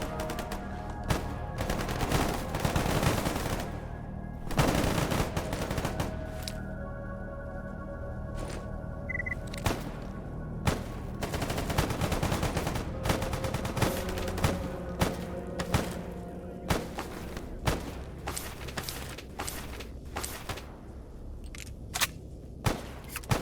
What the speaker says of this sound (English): Fuckers still shooting at me